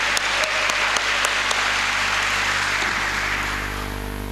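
A church congregation applauding together, a dense, loud wash of clapping hands that fills the room steadily for several seconds before easing slightly at the end.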